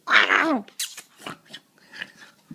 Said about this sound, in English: she is a real doggy. She plays fetch.